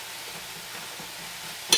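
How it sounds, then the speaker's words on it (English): Mushrooms sautéing in a pan for homemade Vietnamese pho, a soft steady sizzle with faint stirring, ending in a brief sharper scrape near the close. "It's going to saute the mushrooms."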